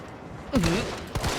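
Gunfire in the Resident Evil 3 video game: a sharp burst of shots around the middle, followed by a second burst near the end. A voice-like tone glides through the first burst.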